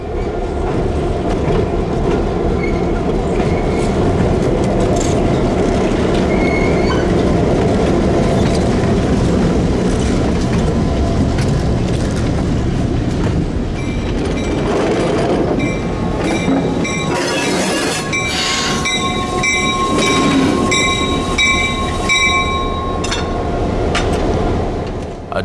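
A CSX light engine locomotive rolls across an old Seaboard railway bridge, a loud, continuous rumble of wheels and engine with clickety-clack and some metallic wheel squeal and ringing tones toward the end, no voices.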